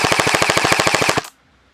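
A T238 Daybreak gel blaster fires on full auto in a rapid, even burst of about fifteen loud, close cracks over just over a second, then stops abruptly into near silence.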